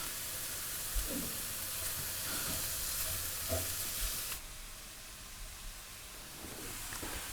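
Chopped tomatoes land in a hot pan for a South Indian prawn curry, a steady loud sizzle and hiss with a few soft stirring knocks, the frying dropping slightly partway through.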